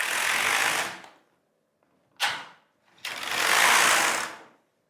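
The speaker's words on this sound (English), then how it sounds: "now I'm going to bring out my needles forward again into needle position 2" Needles on a Singer Solo hand knitting machine slide forward in three broad sliding, rasping sweeps, close and fairly loud, with a brief sharp pass between two longer runs and short silences in between.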